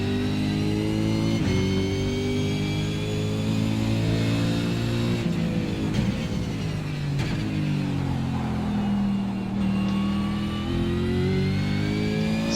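A Holden V8 Supercar engine at Bathurst in iRacing roars loudly at high revs, pitch rising through gears with brief dips at shifts, continuous and close with no voices.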